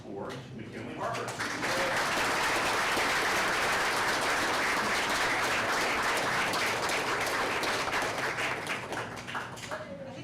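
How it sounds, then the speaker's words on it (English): Warm round of applause for a performer at a regular board meeting, dense clapping that swells quickly and holds steady for several seconds, with a little talk at the very start. "So please give a warm round of applause for McKinley Harper."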